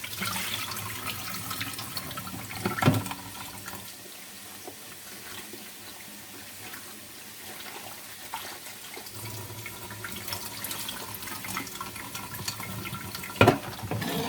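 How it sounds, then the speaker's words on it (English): Fresh water runs from a kitchen tap over dried morel mushrooms being rinsed, giving a steady splashing flow with a few louder clatters and surges, close by and with no talk. "What I'm doing is I am putting fresh water in the morels"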